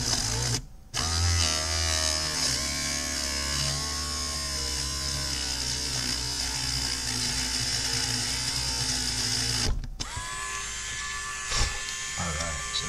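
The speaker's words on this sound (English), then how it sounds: "go ahead and pick up the pace on the Dremel here" Dremel rotary tool drilling a hole in a custom figure, a loud close high-pitched whine that holds steady for long stretches, with short pauses and shifts in speed.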